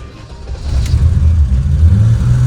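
A turbo-converted BMW E28 engine starts on a dyno, its low rumble swelling after a quiet first half-second into a loud, rough, steady idle close by.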